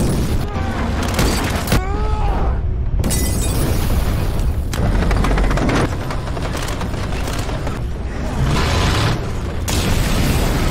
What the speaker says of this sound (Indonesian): inilah saat yang tepat untuk melempari mereka dengan granat dan bom molotov